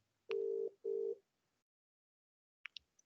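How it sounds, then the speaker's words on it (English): Outgoing Microsoft Teams phone call ringing: two steady electronic ring tones in quick succession, then a pause and a few brief faint beeps, heard alone and fairly quiet. "it's actually ringing"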